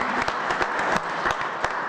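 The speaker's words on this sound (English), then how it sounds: "Yeah, we can clap for Joyce." Meeting audience at a Homer Glen board meeting clapping for Joyce, a steady wash of applause from a modest crowd with a few sharper individual claps standing out, lasting under two seconds.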